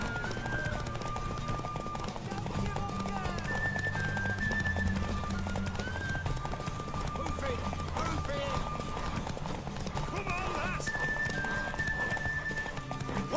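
Horse hooves clip-clop steadily through a video game scene, with occasional whinnies, underneath almost continuous talking and game music.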